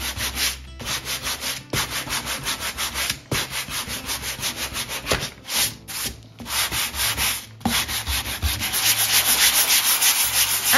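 A fine-grit sanding sponge rubs over painted furniture in steady back-and-forth strokes, a close, continuous scratchy rasp that pauses briefly several times and grows louder toward the end, with no talking.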